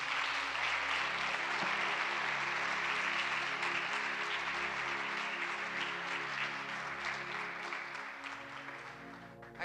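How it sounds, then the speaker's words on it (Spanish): Sustained applause from a women's church gathering fills the room, steady and dense for several seconds before tapering slightly at the end. "Le damos un fuerte aplauso al Señor."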